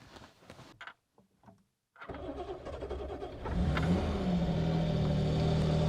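An old carbureted project car cranks with a few halting bursts and a short pause, then the engine catches and settles into a loud, steady idle close by.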